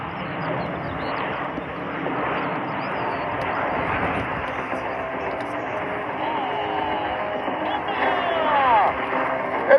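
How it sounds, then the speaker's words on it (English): Fursan Emarat aerobatic jets fly the Bomba maneuver at the RIAT 2023 air show, a steady distant jet roar sustained throughout, with a voice talking over it. "Fursan Emarat is ready to show you the maneuver called Bomba."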